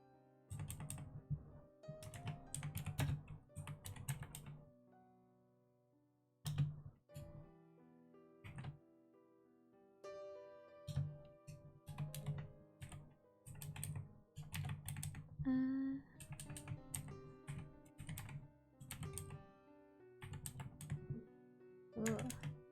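Quick clusters of keystrokes on a computer keyboard at home, broken by short pauses. The clicking is close and crisp, with a brief clatter near the end.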